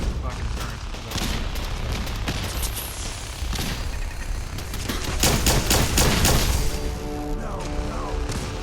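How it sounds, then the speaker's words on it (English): Gunfire against turrets in Fallout 4: repeated loud bursts and rapid shots over a dense, busy game mix, with clusters of sharp reports toward the middle and end. "I'm just shooting the fucking turrets."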